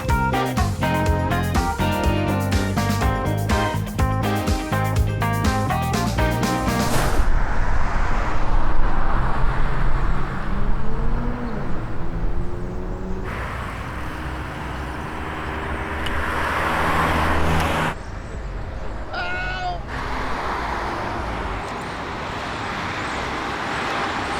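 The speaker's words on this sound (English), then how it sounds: "This is how it sounds when there's raging ambient vehicles behind me" Heavy city street traffic in Nashville rumbles past nearby, with cars and larger vehicles swelling and fading in waves after a short burst of music at the start.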